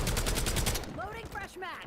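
Rapid automatic gunfire in the video game Black Ops 7, a loud dense burst of shots for under a second, followed by fainter ringing chirps and game effects.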